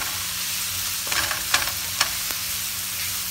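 Softening vegetables frying in a pan for spaghetti, a constant close sizzle broken by a few sharp scrapes and taps as a utensil stirs them.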